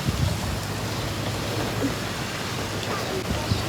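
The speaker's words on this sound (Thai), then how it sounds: "บ่ฮู้ว่าเสียงนี่สิได้ยินอยู่บ่เนาะเพราะว่าเสียงฝนตกเนี่ย" Rain falls steadily outdoors, a constant broad wash of patter with a low rumble underneath and a few faint knocks, lasting evenly across the whole stretch.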